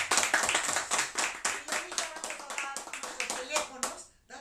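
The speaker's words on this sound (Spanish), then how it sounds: "Un aplauso, por favor." An audience at a Mexican TV and radio show applauds a singer with a burst of brisk, close hand claps that fade out after about four seconds, with voices faintly underneath.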